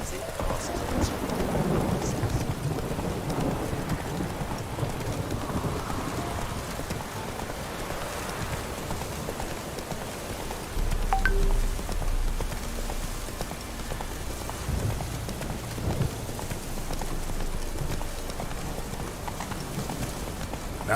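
Geralt's horse Roach galloping in The Witcher 3, a steady clip-clop of hooves running through heavy rain, with a continuous downpour and rumbling thunder throughout and no speech.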